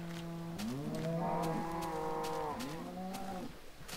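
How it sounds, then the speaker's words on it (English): A cow in Minecraft lets out a long, low, wavering moo lasting about three seconds, clear and close, with faint background game noise and no talk. "I think I'm going to put a single cow over here for milk"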